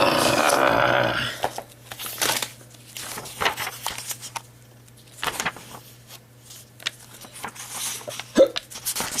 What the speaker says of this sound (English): Excuse me, I have the hiccups again.